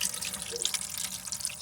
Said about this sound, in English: that's just pushing a little bit of water through it